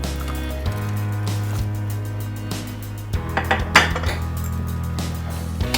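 Dates go into a pot with jaggery and are stirred. A utensil scrapes and clinks against the metal pot in irregular knocks over a low steady hum, growing busier toward the end.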